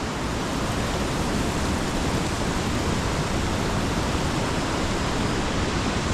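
Water cascading down a Himalayan mountainside, heard as a loud, unbroken broadband roar that stays steady throughout, with no voices.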